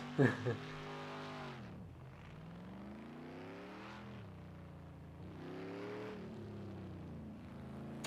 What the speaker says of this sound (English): we moved over to the GTE class with the Aston Martin Vantage GTE, who seems to be having a bit of fun doing some burnouts